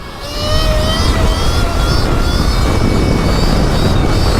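An 80 horsepower aircraft engine runs at full power, a loud, steady propeller drone with wind rush that swells in the first half second and holds without talk.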